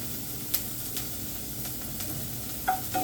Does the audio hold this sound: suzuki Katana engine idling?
no